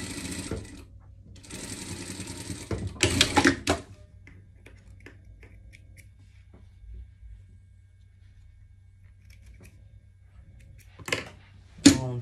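Sewing machine stitching a French seam on surgical clothing, a steady rapid mechanical chatter in two close runs, then pauses with faint handling taps and a low hum before short final bursts.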